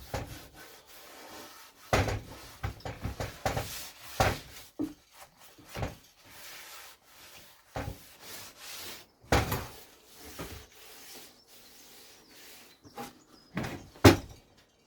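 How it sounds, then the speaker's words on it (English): Linseed oil being rubbed by hand with a cloth around the surfaces of a wooden potting tray, irregular close scrubbing strokes and knocks of wood that come in bursts with short pauses. "all we do is just rub it round, making sure every surface"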